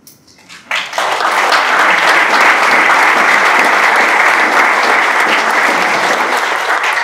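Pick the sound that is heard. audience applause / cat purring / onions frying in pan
audience applause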